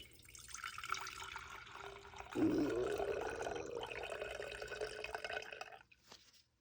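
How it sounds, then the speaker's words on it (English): Dye liquid pours back into a jar in a steady splashing stream for several seconds, swelling midway, then tapering off and stopping. "I'm going to pour it back in the jar."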